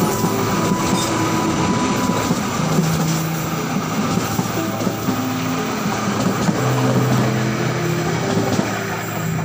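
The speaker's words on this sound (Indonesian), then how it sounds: "Kereta api Malang, Bandung Malang, Malang Bandung." A Malang–Bandung passenger train rolls past on the railway, a loud continuous rumble of wheels and carriages with faint metallic squeals and clicks of rail joints throughout.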